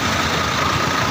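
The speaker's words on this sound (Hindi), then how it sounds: "ये देखें, ये एक सैंड बॉक्स जा रहा है, ये भी रिग्स पे काम देता है" A sand box truck that serves oil rigs, travelling a Saudi Arabian desert road; a steady, heavy engine rumble fills the moment evenly and close by, with no voices.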